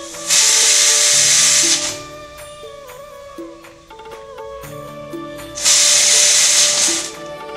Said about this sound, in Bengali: এবার ঢাকনা দিয়ে ঢেকে দেব ডালটাকে 8-9 বার সিটি দিয়ে নেব